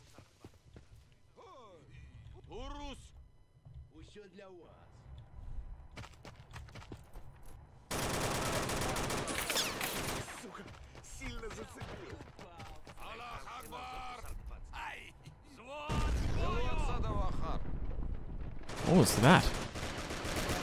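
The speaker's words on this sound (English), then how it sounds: "We're getting artillery from somewhere." Artillery fire from the war game Men of War: Assault Squad 2, set in Grozny city: heavy booming blasts and a dense roar of fire, loudest in two long bursts, with people talking over much of it.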